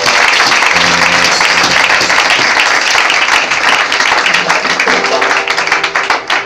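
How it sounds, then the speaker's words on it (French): A church congregation claps loudly and steadily for several seconds, with voices and a faint musical tone beneath the applause. "Applaudis les Saint-Esprit de Dieu."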